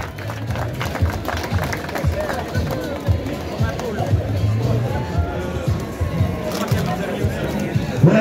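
Crowd claps and cheers for the second-place runner at the podium of the Ploegsteert Course du Souvenir road race, a steady spread of outdoor applause with chatter under an announcer's voice.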